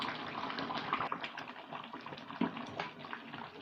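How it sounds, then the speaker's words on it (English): Water pours steadily into a cooking pot, a continuous splashing gush with a few brief louder splashes, fairly close and heard alone. "So I'm just going to add in more water to this pot and let it cook."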